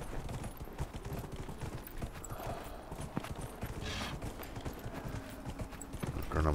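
Horse hooves clip-clop in a steady trotting rhythm in the video game Dragon Age Inquisition, close and constant with faint background game sounds and no speech.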